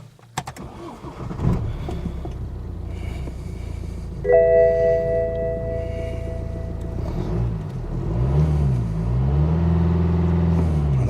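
A BMW N47 diesel engine with a repaired timing chain cranks from cold, catches and settles into a steady, smooth idle, with warning chimes sounding briefly inside the car and the revs rising and falling a little near the end.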